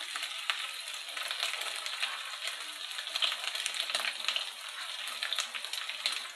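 Garlic fries in a pan for pork Bicol express, a close, even hiss and crackle with small scattered pops and no voices.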